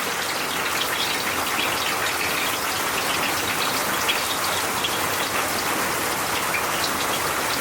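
Heavy rain pours steadily outdoors, a dense, even roar of drops striking surfaces close by, with no voices.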